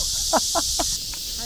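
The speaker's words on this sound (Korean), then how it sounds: "매미 소리가 어마어마해요." A loud, steady high-pitched insect drone of cicadas fills the background on the way to a market, with a few short lower calls poking through it.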